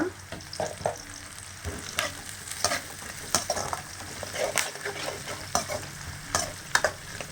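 Onions and curry leaves fry in a pan with a soft continuous sizzle, broken by frequent scraping and tapping strokes of a stirring spoon, close and moderately quiet with no voices.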